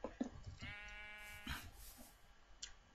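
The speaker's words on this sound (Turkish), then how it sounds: "Sus koyun." A sheep bleats in the Minecraft video game, with IndustrialCraft 2 mod play: one drawn-out, wavering bleat close up, then a short second bleat, among light clicks and game sounds.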